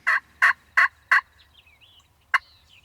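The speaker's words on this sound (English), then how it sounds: "toms are gobbling on the roost" A wild turkey tom gobbles from the roost, four sharp, loud rattling calls in quick even succession, then a pause and one more, with faint birdsong in the quiet background.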